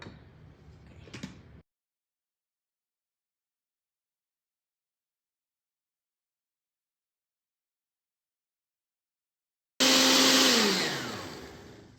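A short burst of noise cuts off into long silence, then a loud blender blending chilaquiles sauce roars on abruptly and gradually winds down.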